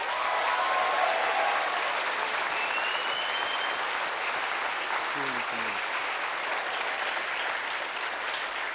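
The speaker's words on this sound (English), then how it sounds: "So round of applause to our guest of honor," Convention audience applauding a guest of honor at a furry convention opening ceremony, steady dense clapping throughout, fairly distant and even, with a faint tonal whistle-like sound drifting through.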